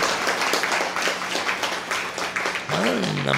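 An audience applauding nadaswaram musicians at a Tamil comedy speech event, sustained crowd clapping throughout with a voice rising at the end.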